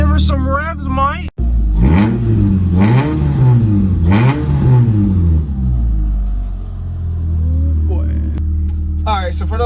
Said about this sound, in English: Give her some revs, Mike.